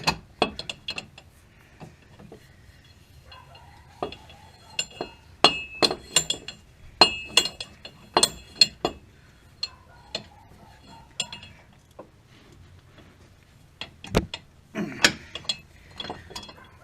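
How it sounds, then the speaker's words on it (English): An inner tie rod is cranked tight with a breaker bar, giving a run of sharp metallic ratchet clicks and clinks in irregular bursts, close and fairly loud against a quiet background, with no talking. "Now we'll go ahead and tighten it back down really tight with the breaker bar."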